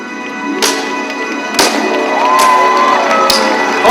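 A large crowd cheers and whoops loudly at the crowning of Miss Lithuania 2012, with sharp confetti-cannon bangs going off every second or so over the steady roar.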